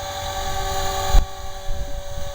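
A Hobby King RC helicopter runs close by with a steady, loud whine and flat tonal hum, and a brief low thump partway through.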